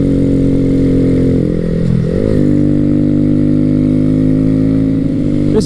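A 2014-2016 Honda Grom 125 (MSX 125) motorcycle engine pulls hard from low RPM. The loud, close buzzing note climbs in pitch as it accelerates, then holds at a steady drone.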